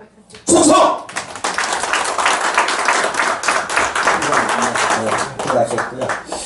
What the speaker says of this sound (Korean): 우리 부사모 회원님들에게 박수를 보냅니다